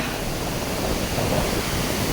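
Habbe waterfall in Chikmagalur pours down in a continuous, loud, dense rushing roar that holds steady throughout.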